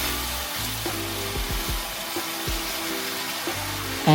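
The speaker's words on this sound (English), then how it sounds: "And then I'm going to stir it." Teriyaki tofu is stirred in a pan over lowered heat, a steady broadband sizzle running throughout with soft scraping strokes and occasional low bumps of the utensil against the pan.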